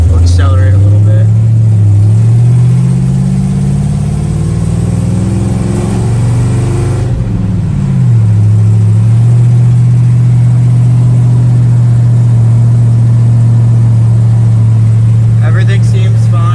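Close, loud engine of a 1951 Chevy 3100 pickup on a test drive, pitch climbing through acceleration, dipping around a gear change, then settling into a steady drone, with a voice faintly under it.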